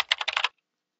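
A brief burst of keyboard typing in the Nancy Drew video game Deadly Device: about half a second of rapid, evenly spaced key clicks, close and clear, then silence.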